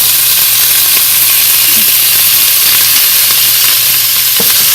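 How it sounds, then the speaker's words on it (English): Onions sizzle steadily in hot oil, a loud, continuous frying hiss with faint stirring clicks underneath. "it sounds better too. The sizzle sounds better."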